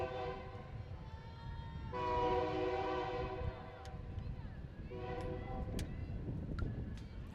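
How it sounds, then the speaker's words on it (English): A train rolls past a baseball field, its rumbling cars steady throughout while the horn blares in two long chord blasts, the first swelling louder, the second shorter, with a few sharp clanks mixed in. "Got the 325 train rolling by."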